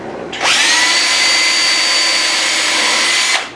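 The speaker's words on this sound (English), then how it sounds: "I'll set up the drill bit so I cannot drill deeper than the screw is long." High whirring power drill boring screw holes into a wooden guitar neck, spinning up sharply, running steady and loud for about three seconds, then winding down, close and alone.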